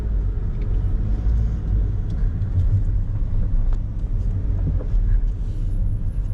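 Steady street traffic on Estrada Padre Estevão Eusébio in Taipa, Macau, with car engines idling and rolling past in a dense, continuous low rumble and no speech.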